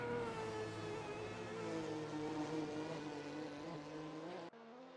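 Group C race cars in a sim racing game at Bikernieki High Speed Ring, a sustained high-revving engine drone with shifting pitch that cuts off sharply near the end.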